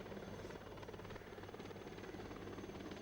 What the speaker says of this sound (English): The helicopters can turn on the spot and even go up and down while turning.